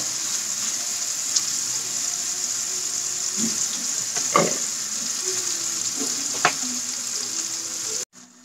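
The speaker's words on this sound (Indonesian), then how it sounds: "Setelah itu tumis sampai layu seperti ini" Shrimp paste and vegetables sauté in a new Teflon pan, giving a steady close sizzling hiss throughout with a few soft utensil clinks and scrapes, ending abruptly.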